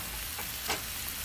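Cut-up chicken pieces go back into a hot pan, giving a brief, steady sizzle with a soft burst of crackle midway.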